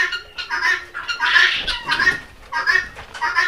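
Chickens of several colours cluck and squawk on a poultry farm in short, uneven bursts, close and fairly loud, with a pause midway before the calls resume.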